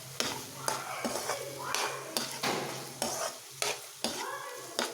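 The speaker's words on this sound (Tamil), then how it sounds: "உப்பு சேர்த்துட்டு நல்லா கலந்து விட்டுக்கோங்க." Boiled potatoes being mixed with salt in a pan for a potato podimas, steady rhythmic scraping strokes of a spoon against the pan over a soft frying sizzle, close and fairly loud.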